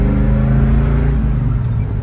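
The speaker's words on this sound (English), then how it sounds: "So what I'll do is take it around the block, go through the gears, and then Ryan, you can put it up on the hoi" A 1970 Camaro SS RS muscle car rumbles loudly and steadily close by as it drives around the block through the gears, its engine tone holding then easing slightly toward the end.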